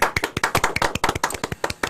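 Several people clap together for three volunteer chat moderators during a Korean livestreamed political talk show, a steady run of sharp, close handclaps with no talk over it.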